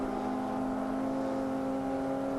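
A car in Forza Motorsport 5 holds a steady engine drone with a constant pitch, like a sustained throttle, continuous and moderately loud with no talk.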